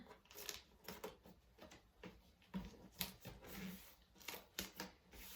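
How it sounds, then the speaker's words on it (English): Small scissors snipping paper corners while folding a storage box, a string of quiet, close, sharp clips and rustles spaced irregularly, with no talk. "Take your little pair of scissors and just cut up your corners."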